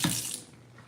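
Water gushes from a kitchen tap over carrots in a sink, a brief close splash that fades to a softer stream.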